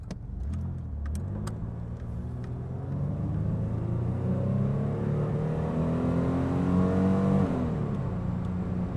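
A 1988 Pontiac Firebird with a fuel-injected 2.8-liter V6 drives along, its engine humming steadily and slowly rising in pitch under light acceleration, with tire and road rumble underneath and no talk.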